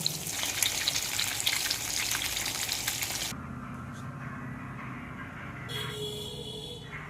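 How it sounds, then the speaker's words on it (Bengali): Onions browning in hot oil for a katla fish curry with potato and pointed gourd, a dense steady sizzle for the first three seconds, then a quieter, fainter simmer with light stirring and scraping. "রান্না করার জন্য আমি পেঁয়াজটা লাল করে ভেজে নিয়েছি।"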